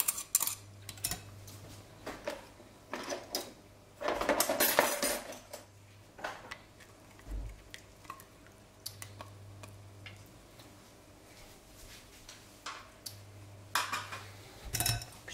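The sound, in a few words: stirring crème fraîche into a mixture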